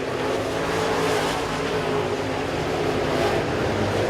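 Race cars circle an oval track at Southern Raceway late in the Southern 100 feature. Engines drone loudly and steadily in a blended roar from several cars, with no talk over it.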